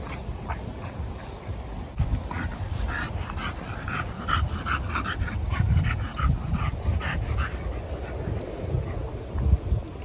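Several dogs moving around indoors, with steady close panting, shuffling and occasional short whimpers under a busy, continuous background of household noise.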